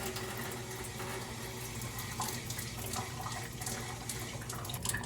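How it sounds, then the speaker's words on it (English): Water runs steadily from a reverse osmosis filter faucet purging air from a new iSpring RCC1UP-AK system, in a continuous, even hiss and splash, with a low hum underneath and no voices. "we're going to turn on the water faucet to purge out any air"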